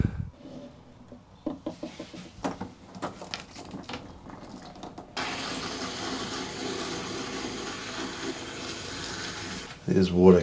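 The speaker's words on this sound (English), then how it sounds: "There's water coming out everywhere, even down there." Water sprays from a leaking plumbing pipe connection near a shower during a hydronic hot water installation. A steady, loud rushing hiss takes over midway, after a stretch of clattering handling noises and some talk.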